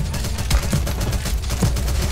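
Rapid, overlapping gunfire from a CS:GO zombie escape match on the Rampage objective map, dense bursts rolling continuously with sharp peaks around the half-second and near the end, loud and close with no talk.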